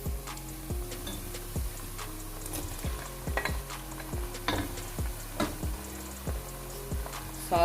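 Tomatoes hit browned onions in a pan and sizzle steadily, while a spoon stirs and taps against the pan in a regular rhythm, close and fairly quiet.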